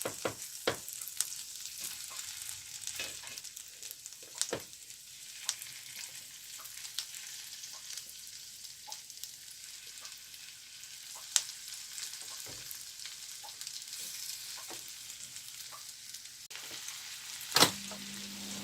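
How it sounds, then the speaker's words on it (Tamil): Masala-coated prawns fry in hot butter and oil with a steady, quiet sizzle, broken by scattered small pops and crackles and an occasional clack of a utensil. "இப்போ பட்டர் எண்ணெய் எல்லாம் சூடானதும் நாங்கள் எடுத்து வச்சிருந்த அந்த மசாலா பிரட்டின இறாலை இதில் சேர்த்துக்கொள்ளுவோம்."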